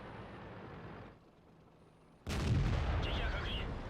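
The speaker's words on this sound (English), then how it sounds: "One artillery shell just missed us." An artillery shell lands in the World of Tanks video game, a sudden loud, booming impact that cuts in midway after a quieter stretch, then a rumbling tail.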